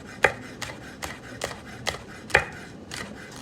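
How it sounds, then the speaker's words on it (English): A knife slices a Fresno chili thinly on a cutting board, about eight crisp, evenly spaced chops over a few seconds, close and clear with no talking. "We're just gonna slice this nice and thin as well."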